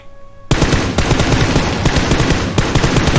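Rapid automatic fire from a Vector submachine gun in PUBG, loud and close, with dense sustained bursts starting after half a second of quiet.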